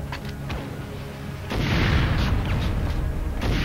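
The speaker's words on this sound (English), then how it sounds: "Did they shoot a rocket at us?" A rocket explosion in a video game gunfight hits with a sudden broad boom halfway through, followed by a sustained rumbling roar and scattered crackles, loud and close.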